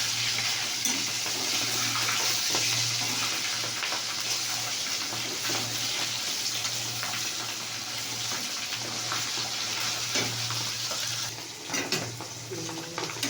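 Fish frying in foaming oil gives a steady, dense hiss, with occasional scrapes and clatters as the pieces are turned over, and a low hum running underneath.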